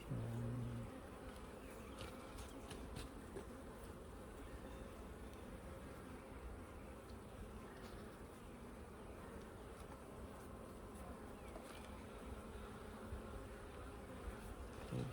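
Honeybees hum in a continuous, even drone around an open hive during an inspection, close and fairly soft, with a few louder buzzes passing near.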